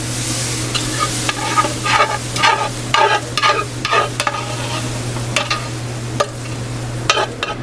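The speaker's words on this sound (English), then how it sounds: "chopped onions. And our garlic. And we're going to cook this on medium-low until the onions are translucent" Chopped onions and garlic cook on medium-low in a pan for risotto balls, with a steady soft sizzle under repeated scraping stir strokes and a low electrical hum throughout.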